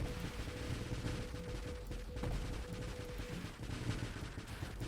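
Turrets firing in the Nova Drift space shooter, a faint, continuous rattle of rapid shots with muffled booms under a low game rumble, no talking.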